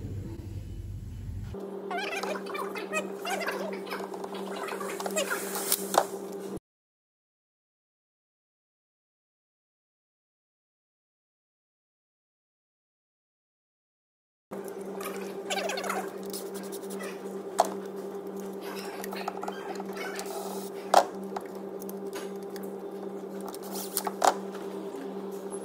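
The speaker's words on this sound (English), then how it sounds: "So I was just using the impact driver there just to run them in" An impact driver runs spark plugs into a 1.6 Zetec engine on a Ford Focus, giving a steady mechanical whirr in two stretches separated by a silent gap, with a few sharp clicks.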